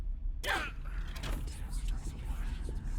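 A door creaks slowly shut in a dim location during a ghost-hunting session, one drawn-out high groan at the start followed by faint room noise and low murmuring.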